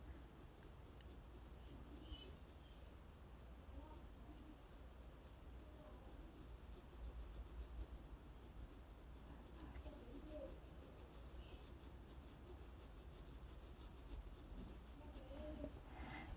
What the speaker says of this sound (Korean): 여기도 조금 어둡게 칠해 볼게요.